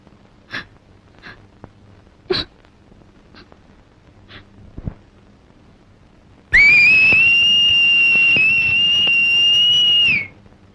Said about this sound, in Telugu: ఈలు వేయటం నాకు మాత్రం ఇష్టమన్నా